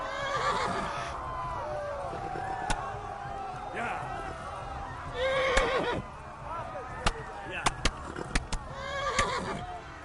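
A horse in the medieval game Kingdom Come: Deliverance whinnies several times across the stretch, with hoof clip-clops and sharp clicks in between, moderately loud against game ambience.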